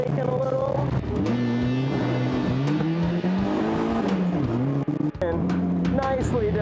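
A car drifting through a slalom course brakes and accelerates, its engine revving up and down in repeated swells with occasional tire noise, while an instructor speaks over it.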